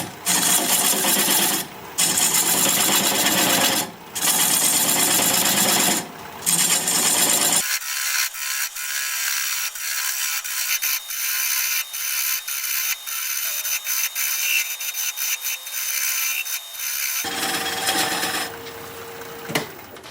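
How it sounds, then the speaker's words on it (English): A 3/8 inch bowl gouge cuts a wooden tenon on a spinning lathe for a candle holder, giving a loud, rough scraping whir broken by short pauses and a quieter stretch, with no talk. "I'm going to take a 3/8 inch bowl gouge and commence to removing that tenon."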